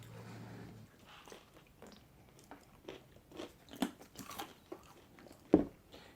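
Crispy fries being bitten and chewed during a mukbang meal of pulled pork and fries, with scattered close crunches and mouth sounds and one sharp, loud bite near the end.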